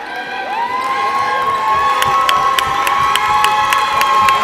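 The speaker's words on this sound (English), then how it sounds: "The crowd getting on their feet here" A high school varsity basketball crowd at the Wilson vs. Coolidge DCIAA championship rises in loud cheering and shouting as starters check out, a sustained roar with whoops and a whistle-like tone running through.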